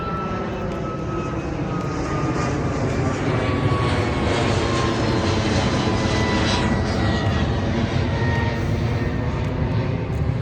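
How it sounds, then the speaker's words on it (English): A fixed-wing airplane passes overhead close to Miami airport, a loud steady engine roar that fills the whole stretch with no break. "every couple minutes a plane goes by, because apparently the Miami airport is right there"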